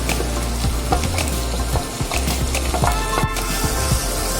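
Capsicum and green chili sizzle and crackle in a pan alongside beans, with a loud continuous fry broken by intermittent clacks and scrapes of a spoon stirring the vegetables.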